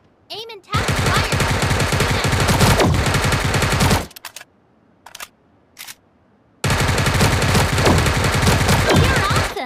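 Gunfire in the mobile shooter Sausage Man rattles out in loud, sustained automatic bursts, stops, gives a few brief isolated shots, then resumes in another long rapid stream.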